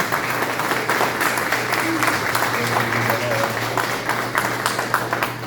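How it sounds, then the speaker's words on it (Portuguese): A church congregation at a Sunday celebration service applauds, producing sustained dense clapping from many hands that fills the whole stretch at a steady, loud level. "isso, pode aplaudir."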